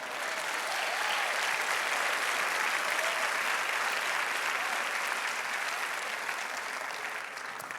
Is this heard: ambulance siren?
no